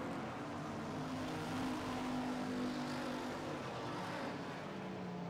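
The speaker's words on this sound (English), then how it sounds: "We have two laps remaining now in this street stock heat, and what a race we have." Street stock race cars running a heat race on a track, a steady distant engine roar with a droning tone that rises and falls as the cars circle, with no talking.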